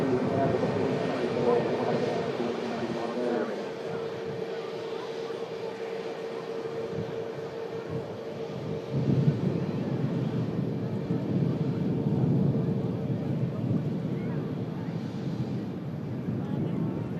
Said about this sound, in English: Ryanair from Berlin, next aircraft to touch.